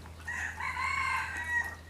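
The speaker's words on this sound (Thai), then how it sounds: "แบบเนี้ยคือเสียงไก่ขัน" A rooster crows in one long, drawn-out call lasting nearly two seconds, sounding fairly clear and close, with a low steady hum underneath and no voices.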